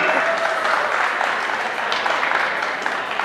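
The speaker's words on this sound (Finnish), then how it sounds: "annetaan raikuvat aplodit champion-luokalle" An audience applauds steadily at a dance competition prize ceremony, a dense, loud, continuous wash of clapping that holds from start to finish.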